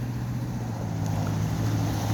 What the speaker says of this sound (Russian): Весь трактор, как и двигатель, в родной краске. Двигатель работает ровно,